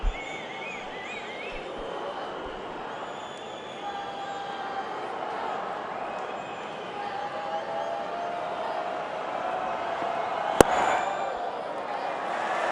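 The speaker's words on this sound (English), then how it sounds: "It's an applause from the crowd" A cricket match crowd applauds in a broad, steady wash of noise that swells slightly and carries on for the whole stretch, with a brief sharp crack near the end.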